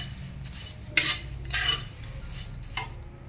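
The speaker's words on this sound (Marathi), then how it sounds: "मस्त छान असं खरपूस भाजून घ्यायचं आहे पोहे पण, अगदी 1-2-3 मिनिटं लागतात त्याला भाजायला।" Poha being dry-roasted in a pan, stirred with a metal spatula: a few sharp scraping clinks against the pan, one louder hit near the start, then softer scrapes over a quiet background.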